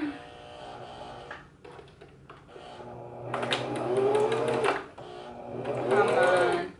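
A sewing machine stitches a wedding dress during an alteration, its motor whirring in two close, sustained runs that rise and fall in speed, with quieter handling sounds before the first run.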